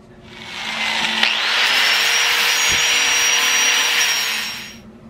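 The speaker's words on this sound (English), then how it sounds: "So I'm gonna go ahead and clean up both surfaces really good with a grinder" Grinder cleaning up exhaust flange surfaces for a C4 Corvette cat delete, one loud continuous abrasive whine that rises and fades over a few seconds, close and alone.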